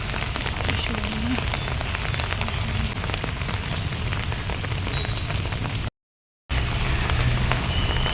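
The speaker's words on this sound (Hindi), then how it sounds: "बहुत तेज़ बारिश हो रही थी, बहुत बहुत ज़्यादा।" Heavy rain pours steadily onto surfaces, a dense hiss with scattered drops, loud and close, briefly cutting out before resuming.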